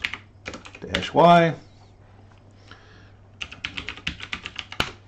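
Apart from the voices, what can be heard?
typing a terminal command on a computer keyboard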